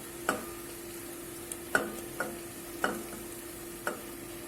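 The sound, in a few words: minced meat frying and being stirred in a pan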